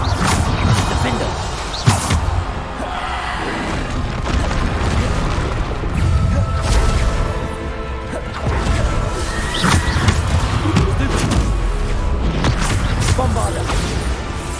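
Repeated Bombarda blasting spells in Hogwarts Legacy, a busy stretch of booming impacts and crashing thuds layered over continuous battle noise, with a voice talking throughout.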